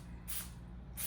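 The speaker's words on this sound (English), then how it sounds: "I'm actually gonna spray each muffin liner just a little bit" Two short hissing bursts of non-stick cooking spray shot into paper muffin liners for pumpkin muffins, each about half a second, close and fairly loud over a low background hum.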